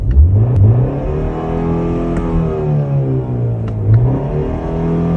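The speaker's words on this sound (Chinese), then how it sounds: "BMW 声浪模拟到底有多厉害？ 你听，现在是原厂没有开启动态音效的声音" A BMW X2 M35i engine revs with its stock sound and no simulated enhancement, a loud, close, smooth rise and fall of pitch repeated over several seconds.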